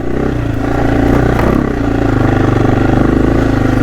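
AJP PR7 adventure motorcycle engine while the rider feathers the clutch on hilly terrain, a loud close single-cylinder thrum with rapid pulsing firing and slight rises and dips in revs.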